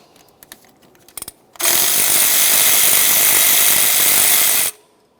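Ratchet wrench loosening a 12mm bolt on a starter bracket of a 2009-2010 Pontiac Vibe: a few light clicks and taps, then three seconds of loud, continuous rapid ratcheting that stops abruptly.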